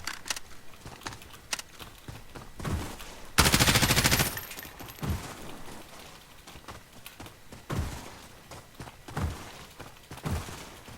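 Gunfire in Call of Duty Modern Warfare Warzone from the first gun of a loadout, a no-recoil weapon: a dense, loud burst of rapid shots lasting under a second, with scattered sharper single cracks and clicks around it.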